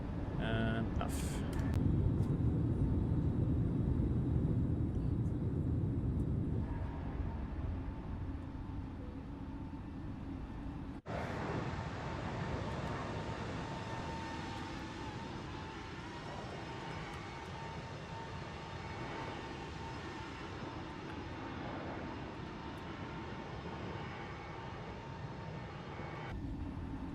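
A steady roar of Airbus A320 jet engines at climb thrust after takeoff in Microsoft Flight Simulator 2024, loud and continuous throughout, with a short burst of cockpit clatter at the start.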